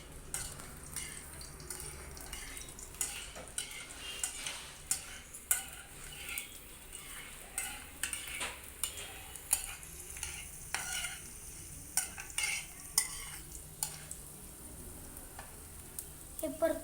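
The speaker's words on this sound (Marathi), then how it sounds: "आपण हे परतून घेऊया." Chili sautéing in a pan while being stirred, a steady soft sizzle broken by frequent scraping and clicking strokes of a spoon, close and moderately quiet, with no talk.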